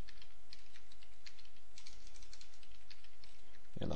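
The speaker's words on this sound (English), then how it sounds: "I'll go down here and type in a username" Rapid clicking keystrokes on a computer keyboard, a quick irregular patter of taps close by and fairly quiet, ending with a brief louder thump.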